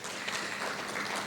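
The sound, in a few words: audience applause for Oriental Lotus Hospitality Solutions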